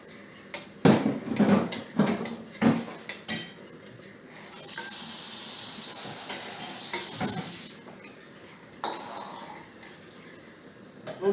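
Oil heating in a pan on a home stove for a sauce, a steady soft hiss and sizzle running through the middle, with clanks of pots and utensils and stirring knocks near the start and a few later.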